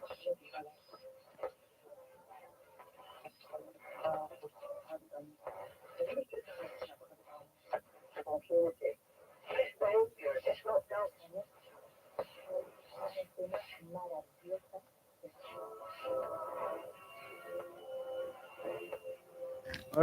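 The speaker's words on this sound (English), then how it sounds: "I reckon that's Radio Caroline there." AM broadcast of Radio Caroline picked up on a radio receiver, faint and crackly, with speech-like voices and music fragments drifting in and out through static and fading for about twenty seconds.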